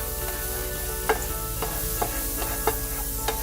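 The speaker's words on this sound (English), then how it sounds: "I'm starting with a pan on the stove to which I'm adding a little butter." Butter melts in a pan on a stovetop with a soft, steady sizzle, broken now and then by faint clicks and light stirring taps.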